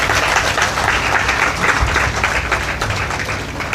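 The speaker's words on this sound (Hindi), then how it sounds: "तालियों से स्वागत" An audience at a Hindu devotional katha recital claps in welcome, a loud, dense, continuous wave of applause that eases slightly near the end.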